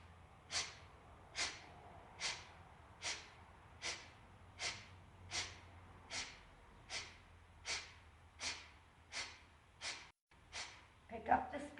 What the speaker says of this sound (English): Keep going with this breath of fire.